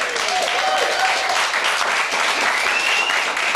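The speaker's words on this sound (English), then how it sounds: "Put them together for Nina Wadia." Studio audience applauding steadily as a guest actress arrives on a morning television show, a dense, even wash of clapping close by with no voices.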